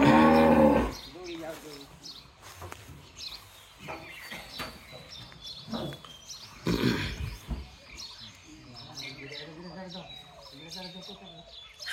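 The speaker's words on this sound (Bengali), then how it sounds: "গাভী।" A dry cow without a calf, one of several cattle loaded for transport, lets out a loud, long moo, followed by further lowing with birds chirping in the background and voices around.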